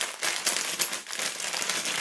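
Plastic bags holding Lego bricks are handled close up, giving a continuous crinkly rustle with small crackles for about two seconds and no talking.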